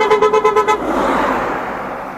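Car horns toot in a rapid series of short, loud blasts on a busy road through heavy traffic toward a hilltop temple in Uttarakhand, then give way to a steady rush of engines and road noise.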